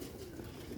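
A black-faced pigeon, kept for sale in Sialkot, gives a single short, soft throaty coo close by against a hissy background.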